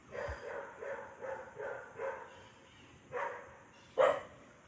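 A dog barks repeatedly at a steady pace, sounding somewhat distant, with a sharper, louder bark near the end.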